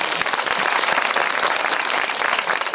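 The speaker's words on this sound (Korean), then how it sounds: "깜짝 등장해준 주예리 배우님께 다시 한번 박수 부탁드리겠습니다." Audience applause for a young actress at a Korean cinema talk event for the film The House of Us, dense steady clapping from a crowd, loud and sustained throughout with no talking.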